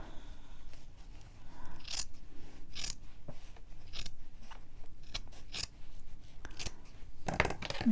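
Scissors cut fabric for a handmade needle book in repeated crisp snips, spaced irregularly, close up in a quiet room.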